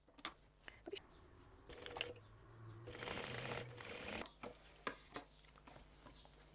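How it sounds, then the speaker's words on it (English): A sewing machine runs in several short bursts of stitching along the side seams of crossbody bag pieces, with one longer continuous run in the middle, interspersed with small clicks and handling noises nearby. "sew down either side of those with the allotted seam allowance"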